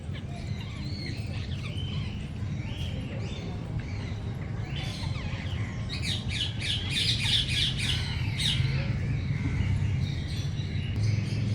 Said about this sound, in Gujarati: હવે આપણે આવી ગયા છે પક્ષી ઘરમાં આ છે પોપટ